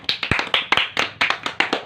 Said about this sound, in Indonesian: beri tepuk tangan untuk kelompok pepaya